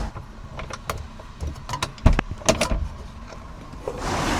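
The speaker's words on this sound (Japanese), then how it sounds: "さあ、そしたらバックドア開けてみます。" The back door of an electric pop-up kei camping trailer is worked open during steady rain, giving a series of close clicks, latch knocks and a sharp thump, followed by a soft rising swish at the end.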